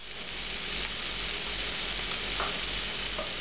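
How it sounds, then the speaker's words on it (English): Previously blanched vegetables sauteing in olive oil in a pan, a continuous broad sizzle at moderate level with a couple of faint clinks, no talking. "these have been sauteing for a couple of minutes"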